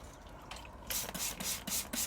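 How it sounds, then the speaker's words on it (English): A hand spray bottle mists water over seed compost in trays, a few quick soft pumping sprays in rhythm, faint and close, with no talking. "and then I'll give them a bit of a spray down"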